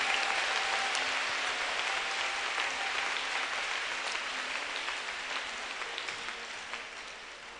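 A church congregation at a Robert Kayanja service claps hands continuously, a thick, even wash of applause that fades gradually toward the close.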